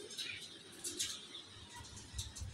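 Faint, soft cooing from pigeons kept for competition flying, a Fulshira among them, murmuring in low repeated pulses over a hissy background.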